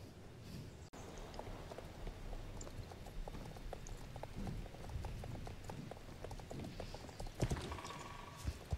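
Horse hooves clip-clop steadily in the Brave video game, a continuous run of soft, fairly close hoofbeats over low ambient noise.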